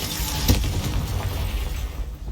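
A Confringo blasting spell explodes in a Harry Potter video game, a loud boom with a sharp burst near the half-second mark, then a dense rumbling blast that fades slightly toward the end.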